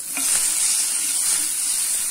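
Bread pizza topping seasoned with salt and black pepper frying in a pan over a high flame, giving a steady, close, bright sizzle that hisses evenly throughout with no voices.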